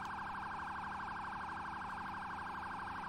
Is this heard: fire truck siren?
yes